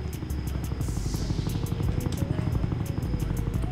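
Helicopter in the Roblox game Jailbreak: a steady, close engine drone with a rapid rhythmic rotor chop running throughout, with no one talking.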